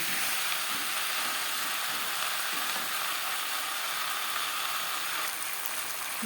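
Potatoes fry with salt, turmeric and red chilli powder in a hot pan, giving a loud, continuous close-up sizzle with faint stirring scrapes and no speech.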